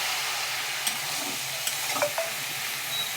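A banana-stem and pumpkin curry sautés in a pan after ginger water is added, hissing in a soft, steady sizzle with a few light clicks of a stirring utensil.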